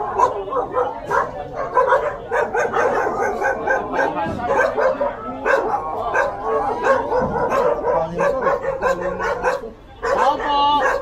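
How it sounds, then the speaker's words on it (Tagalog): Several dogs bark and yip repeatedly nearby, with a few whimpers, while people talk over the barking. "Sumasagot yung aso eh."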